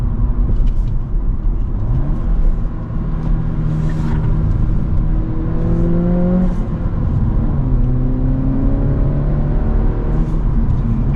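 A 2025 Acura Integra A-Spec with a six-speed manual pulls away under acceleration, its engine note climbing through the gears with loud, steady road rumble and whir throughout, no voices.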